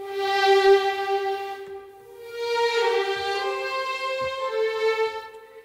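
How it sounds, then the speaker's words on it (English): Sustained sampled string-section long notes from Cinematic Studio Strings swell in, ease off briefly, then return as a full, lush chord that holds and fades. "So we're gonna start with cinematic studio strings."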